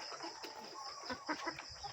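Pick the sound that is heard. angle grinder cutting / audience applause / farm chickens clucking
farm chickens clucking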